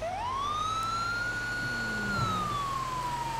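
A Ram ambulance siren in GTA 5 wails in one long rising and falling tone, loud and close over a steady engine rumble.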